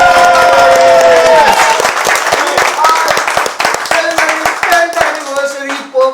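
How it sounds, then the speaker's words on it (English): An audience at a corporate tenth-anniversary celebration claps loudly, the sharp hand claps rising over loud music and voices before thinning into scattered, uneven claps toward the end. "can you clap loudly?"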